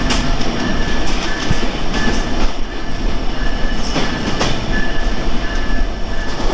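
The Benapole Express train rolls along steadily, heard up close, wheels rumbling with rhythmic clacks over the rail joints and no talking.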